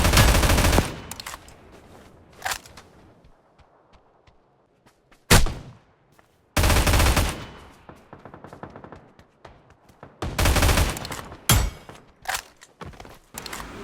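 Bursts of gunfire in the mobile battle royale game New State Mobile: loud, sharp volleys and single cracks separated by quieter gaps with faint footsteps and thuds, some shots close and others distant.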